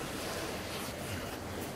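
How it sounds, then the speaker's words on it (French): Ocean waves crash against rocks at Peniche as a continuous, soft, washing roar heard from a distance, mixed with light wind buffeting the microphone. "Laissez-vous bercer par le son des vagues qui fracassent les rochers."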